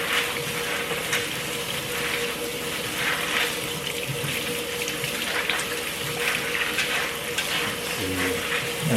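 Food is washed under a running kitchen tap for meal prep: a continuous, close rush of water splashing into the sink, with light clinks and handling noises, a few more near the end.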